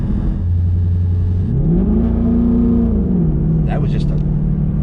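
2019 twin turbo Coyote V8 with a 10R80 automatic pulling away on light throttle, a steady close engine drone that rises and eases as gears shift, under the low rumble of the cabin, with people talking.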